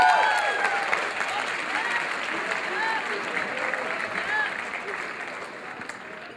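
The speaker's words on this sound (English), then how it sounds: "So give yourselves a round of applause." Conference audience of students at a leadership event breaks into applause, dense clapping that starts loud and gradually tapers off over several seconds.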